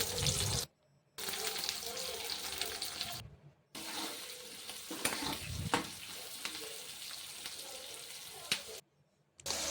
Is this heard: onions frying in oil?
yes